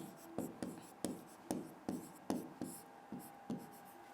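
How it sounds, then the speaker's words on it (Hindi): A hand writes notes for a Class 10 Sanskrit lesson, with about ten evenly spaced, distinct pen taps and strokes, close but quiet, with no talking. "अब यहां लिखेंगे हम इसका प्रसंग"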